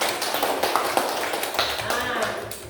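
Students in a classroom clap their hands after a group presents, a short, uneven patter of claps from a small group, fairly quiet and close, with a voice briefly underneath.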